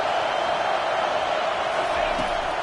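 A steady, dense stadium crowd roar fills a football video game, a constant wash of massed voices with no clear breaks.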